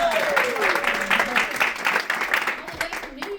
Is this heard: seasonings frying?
no